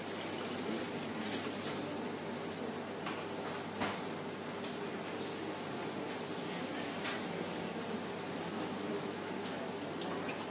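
Steady running water pours while hair is rinsed at a salon wash basin, a constant even hiss with no talking and only a faint knock partway through.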